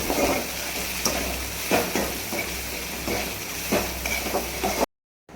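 Bitter gourd pieces are stirred in a hot oily pan, a continuous sizzle with regular scraping strokes of the spatula, close and fairly loud, ending abruptly.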